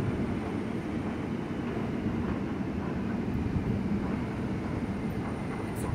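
A loud, continuous low rumble of a metro train pulling into a Bucharest station, a steady roar that fills the space with no pauses or voices.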